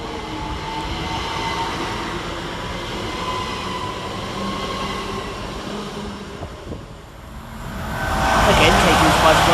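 A Great Western Railway class 387 electric train, unit 387149, pulls away from Twyford station, giving a steady rumble and wheel noise with faint tonal whine that fades mid-clip before a louder, hissing passage swells at the end, while a voice talks over it.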